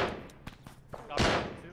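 Gunfire in the Cold War era ARMA military game: a handful of sharp, separate shots spaced over a second or so, the last one the loudest and longest. There is a faint murmur of voices in the background.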